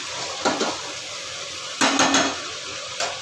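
Okra curry stirred in a pan, a few clinking scrapes of a utensil against the metal pan in short bursts separated by quiet pauses, close and fairly loud, no voices.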